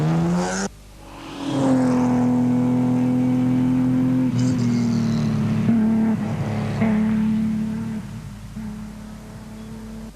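A big Ford Sierra rally car races past on a forest special stage in a 1988 rally, its engine holding a loud sustained high-revving drone with gear changes before fading away.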